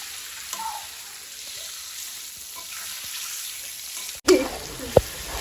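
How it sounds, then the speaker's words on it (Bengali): Meat fries in a pan with a steady, even sizzle at moderate volume, broken near the end by a couple of sharp clunks from the pan. "একটা মাংসটাকে ফ্রাই করা হচ্ছে"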